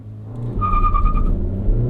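A 2023 Acura Integra launches hard with wheel spin, its engine roaring loudly and close while a high squealing tone rises briefly over the steady drone.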